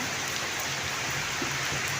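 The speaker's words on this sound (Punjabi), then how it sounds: "ਹੁਣ ਵੀ ਇੰਨਾ ਮੀਂਹ ਹੈ ਜ਼ਿਆਦਾ" Heavy rain pours down in a dense, constant hiss, with droplets pattering on nearby surfaces and no talking.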